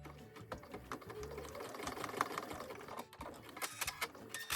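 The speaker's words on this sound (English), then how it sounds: "and now I'm going to sew it on" Close, quiet rattling of a sewing machine stitching a button onto a placket, running in short steady bursts with brief pauses.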